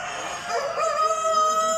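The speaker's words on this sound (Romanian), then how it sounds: "95 de puncte, cocoșul superb." A rooster crows at a national poultry exhibition, its long sustained call ringing out clearly against a steady background of hall noise and other fowl.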